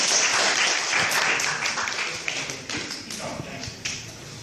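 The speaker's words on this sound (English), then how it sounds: "Big applause for Mr. Jon." Audience applause at a tech talk on growth hacking, a burst of scattered hand claps from a modest room crowd that starts full and thins out, with a few sharp close taps standing out.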